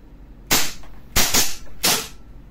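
A WE M92 Beretta airsoft gas pistol fires three sharp semi-auto shots a little over half a second apart, loud and close, each with a brief gas hiss tail.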